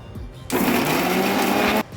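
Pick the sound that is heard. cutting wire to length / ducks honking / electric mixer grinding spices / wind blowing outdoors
electric mixer grinding spices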